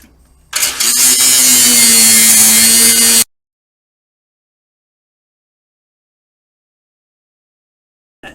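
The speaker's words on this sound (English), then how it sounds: "Let's cut these old tail lights off." Power tool whirring loudly up close while cutting old rusted tail lights off a Jeep CJ5 body, one continuous burst of about three seconds that stops abruptly, followed by silence.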